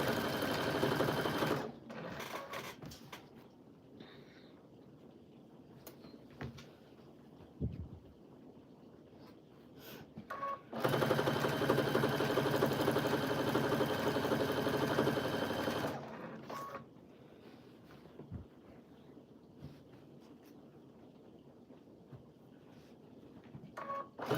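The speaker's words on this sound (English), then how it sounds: "I'm going to come in here and I am going to sew." Sewing machine stitching scraps of batting, running in steady whirring bursts of a few seconds each with short pauses and small clicks between runs, close and clear, with no talk.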